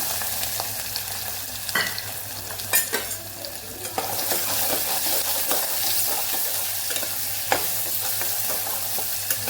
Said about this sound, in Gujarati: ડુંગળીને આપણે થોડી વાર સાતળવા દઈશું